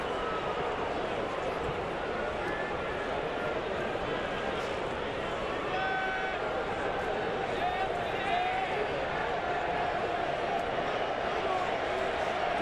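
A baseball crowd roars in a stadium behind pitcher Felix, a continuous, dense swell of cheering heard from a distance under a broadcaster's commentary.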